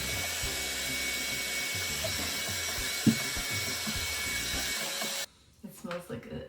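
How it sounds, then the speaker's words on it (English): A hair dryer blowing on freshly dyed hair treated with a wine and coffee mixture, a steady loud whooshing hum running for about five seconds, then cutting off abruptly into quieter handling sounds. "So I'm gonna blow dry it and see how it turns out."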